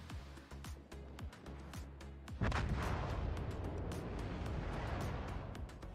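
The German cruiser Siegfried fires a salvo from its 15-inch guns in World of Warships, a heavy booming blast with a long roaring rumble after it, preceded by fainter thuds and clicks, with no voices.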